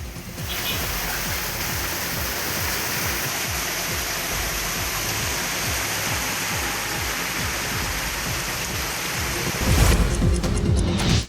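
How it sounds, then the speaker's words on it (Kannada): Heavy rain pours with thunder in Yellapur taluk, Uttara Kannada district, a steady dense downpour with low rumbling that swells louder near the end. "ಉತ್ತರ ಕನ್ನಡ ಜಿಲ್ಲೆ ಕೆಲವೆಡೆ ಗುಡುಗು ಸಹಿತ ಭಾರೀ ಮಳೆ ಆಗಿದೆ"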